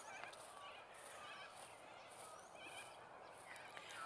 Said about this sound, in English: Oh, I just woke up all the ducks.